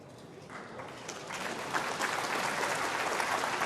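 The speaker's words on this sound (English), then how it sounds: "you felt when you heard that little bit of applause" Snooker spectators at the Xi'an Grand Prix semi-final give a brief ripple of applause that swells from quiet to a modest, steady clatter, heard from a distance.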